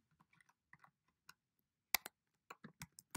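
Typing on a computer keyboard, scattered soft key taps followed by a run of sharper, louder clacks, close up and with no talking.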